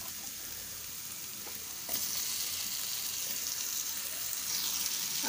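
Tomatoes fry with cluster beans in a pan, a steady bright sizzle that swells louder partway through, with soft stirring underneath, close and continuous, without any voices.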